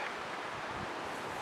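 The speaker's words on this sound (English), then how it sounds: "it's windy down here" Steady wind rushing and buffeting against the microphone, a broad whooshing noise with no voices.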